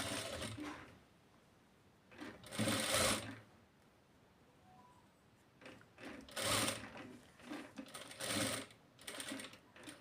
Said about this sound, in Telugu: నేను ఇంకో కుట్టేస్తున్నాను